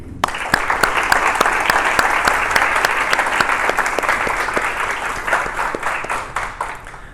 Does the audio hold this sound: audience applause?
yes